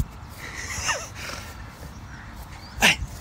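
A small pet dog being coaxed to run outdoors, with faint scattered whimpering and yipping sounds and a brief sharp burst near the end, over low background noise.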